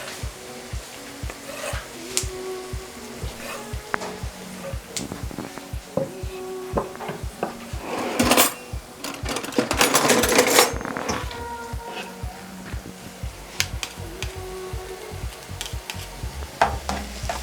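Garlic cooks in a pan for homemade ramen, with a soft sizzle under repeated scraping and stirring strokes of a utensil, plus a louder burst of hiss partway through; no talking.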